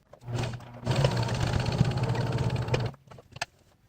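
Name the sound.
sewing machine sewing a folded cosplay cape straight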